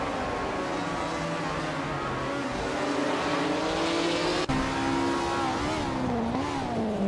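A Ferrari 1512 race car engine in a racing video game, a steady high-pitched drone with slowly shifting revs and a brief gear-change blip, continuous and unbroken.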